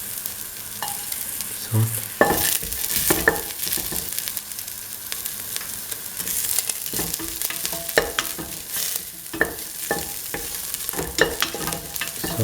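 Garlic sizzling in a hot pan for a mung bean, tomato and coconut milk stew, with steady frying crackle and repeated scraping stirs of a utensil against the pan, close up.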